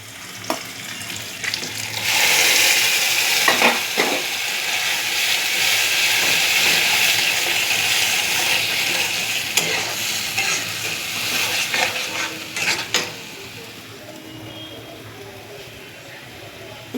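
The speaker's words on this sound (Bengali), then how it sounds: "দেখুন ভাজা হচ্ছে। দেখুন চিংড়ি মাছ বাটাটা ভাজা হয়ে গেছে।" Ground shrimp paste frying in hot oil in a home kitchen, a loud continuous sizzle and hiss with stirring clatters and brief scraping bursts, easing toward the end.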